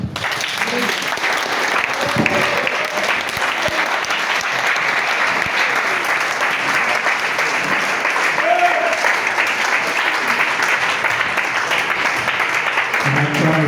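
A church congregation breaks into loud, sustained applause, clapping steadily and densely for the whole stretch with a few voices mixed in.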